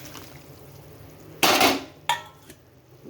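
Fish pieces dropped into a pot of boiling water, giving a sharp splashy clatter followed by a second shorter splash and a faint clink over a quiet kitchen background.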